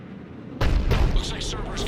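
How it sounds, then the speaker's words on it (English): A Cerberus cannon in Mass Effect 3 fires one sudden heavy blast out of near silence, followed by a rumbling tail, with a voice speaking over the aftermath. "Looks like Cerberus got that cannon operational, Commander."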